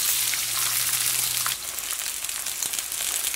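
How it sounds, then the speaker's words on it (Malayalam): Ivy gourd pieces dropped into hot oil for a pickle, giving a loud, dense hiss that flares as the vegetables hit the oil and settles into steady crackling frying. "നമ്മുടെ ഓയിൽ നന്നായിട്ട് ചൂടായിട്ടുണ്ട് ഇതിലേക്ക് കോവയ്ക്ക ചേർക്കാണ്"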